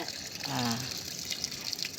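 Running water gushes and splashes steadily for a couple of seconds, like liquid being poured out, with a faint voice briefly underneath.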